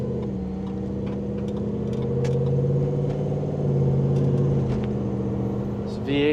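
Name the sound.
V8 engine of a 1972 Bronco running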